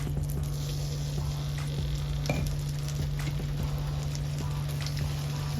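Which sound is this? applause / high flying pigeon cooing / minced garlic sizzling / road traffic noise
minced garlic sizzling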